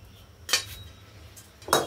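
A freshly washed metal wok is set down on a kitchen stove, giving two brief clanks about a second apart, close and fairly soft over a quiet room.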